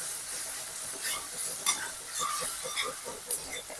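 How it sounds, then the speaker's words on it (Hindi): Garlic sautéing on a low flame for kadhi, a soft, steady sizzle with a few spoon clinks and stirring scrapes against the pan, quiet and close, no voices. "बिल्कुल धीमी आंच पे हम इसको भून लेंगे।"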